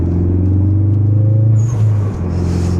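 A turbocharged Ford Focus RS engine drones steadily and loudly from inside the moving car, its low hum shifting pitch with a brief dip as the driver changes throttle.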